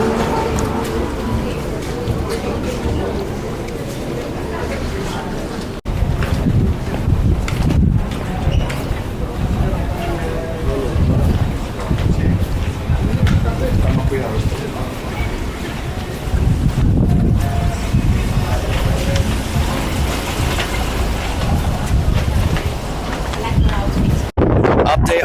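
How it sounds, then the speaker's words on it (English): Strong wind roars steadily across the microphone outdoors on Mykonos, a loud continuous buffeting with gusty surges, while a person talks over it throughout. "It's a little windy. Not a little, it's a lot windy."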